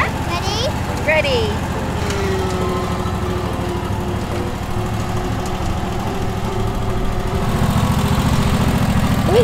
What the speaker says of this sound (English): We're showing Mum how to drive the ride-on lawnmower today.